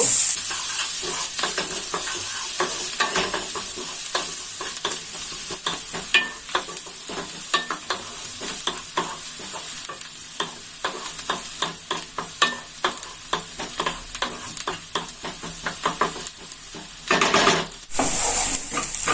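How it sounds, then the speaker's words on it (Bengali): Finely chopped onions fry in a pan while being stirred steadily, a loud continuous sizzle laced with rapid scraping and clicking of a spatula against the metal. "এবার এটাকে ভালো করে নেড়ে আমি একটু সামান্য লাল করে ভেজে নেব।"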